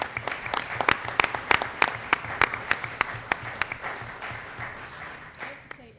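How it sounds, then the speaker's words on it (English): A room of people at a Board of Education meeting claps for Joyce in a burst of applause that fades out over several seconds, with talking around it. "I just think she deserves a round of applause for that"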